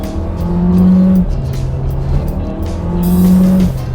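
A Skoda Octavia car accelerates hard, its engine drone rising in pitch through two gear pulls with a brief dip between them, loud and close from inside the cabin.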